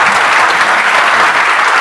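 A short burst of loud, dense clapping fills a village classroom comedy scene, a group of children and audience applauding together without pause.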